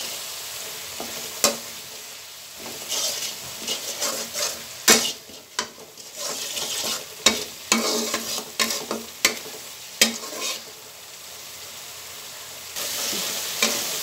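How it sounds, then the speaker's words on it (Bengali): Spice paste of salt, chili powder, turmeric and coriander powder being stir-fried in a pan for a pangas fish dish, with a steady close sizzle broken by repeated scraping and clattering stirs. "মশলাটা কষাই নিচ্ছি,"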